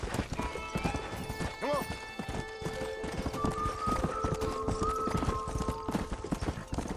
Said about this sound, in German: Mein schnelles Pferdchen.